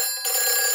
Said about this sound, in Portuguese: Peppa, esse é o telefone do bombeiro.